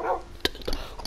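Dog barking in the video game Minecraft, a single sharp bark followed by a softer second yip, fairly close and brief.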